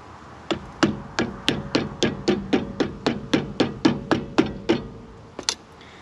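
A hammer taps a center cap onto a trailer wheel hub, about fifteen sharp, evenly spaced metallic strikes in quick succession, close and loud, followed by one last hit after a short pause.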